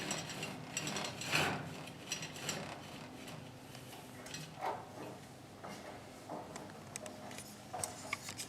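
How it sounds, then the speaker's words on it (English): A pulley system rigged in a barn lowers a deer carcass, giving faint, irregular ratcheting clicks and mechanical creaks with brief louder catches, heard alone. "I'm gonna go ahead and lower her down a little bit."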